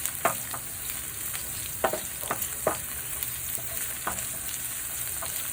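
Onion and ginger sauté in hot oil, a steady close sizzle broken by several sharp scraping stirs of the spatula, with no talking.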